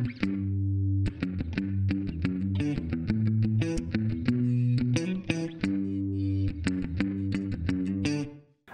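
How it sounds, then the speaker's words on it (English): Electric guitar with distortion and chorus effects playing a palm-muted staccato riff on a Stratocaster in the second position of the five-way pickup selector, tight choppy chords in a quick, uneven rhythm, clear and up close. "You need to palm mute to get that nice, snappy, staccato percussive sound."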